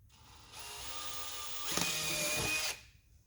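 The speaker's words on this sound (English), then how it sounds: "you wanna get yourself a drill bit, like that's kind of small, and you wanna go to the end of your crack and drill a hole." A small drill bit bores a hole at the end of a crack in a damaged Kia Optima, a steady high whine about two seconds long that rises in strain near the end, then stops abruptly.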